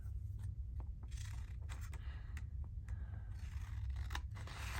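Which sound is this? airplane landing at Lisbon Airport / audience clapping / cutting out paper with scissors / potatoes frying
cutting out paper with scissors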